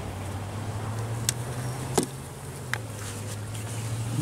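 Honeybees hum from an opened backyard hive in a steady, close, low drone, with a few soft clicks and taps from hive parts being handled.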